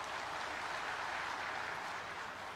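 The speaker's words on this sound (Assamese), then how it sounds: "সকলোৱে এটা হাত চাপৰিৰে তেখেতক ধন্যবাদ জনাওক।" Audience applause for the chief minister, a steady, even wash of clapping from a large crowd that stays at a constant level throughout without voices.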